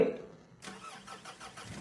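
A car engine turning over and catching in a video game, a short starter whir that settles into a steady idle, quiet and alone.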